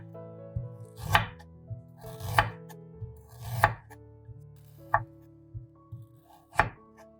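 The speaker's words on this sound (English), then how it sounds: "Wash ginger, chop 50 grams ginger." A knife chops fresh ginger on a board in several distinct, crisp strokes spaced about a second apart, close and alone, with softer taps and knocks between them.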